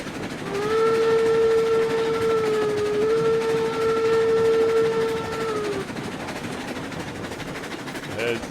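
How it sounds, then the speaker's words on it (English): A steam train whistle blows one long steady tone for about five seconds in the video game RailRoads Online, loud over the rumble of cars rolling on rails, which continues after the whistle stops. "Proper train going down there."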